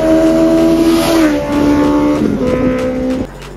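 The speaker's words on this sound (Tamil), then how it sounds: "இங்கே ஒரு 1 கிலோமீட்டர் தள்ளி வந்தால் கூட அவ்வளோ சவுண்டாக கேட்கும் இந்த எக்ஸாஸ்ட்டு." A loud Benelli 600i motorcycle exhaust note rumbles steadily up close, shifting pitch as it revs, then cuts off abruptly near the end.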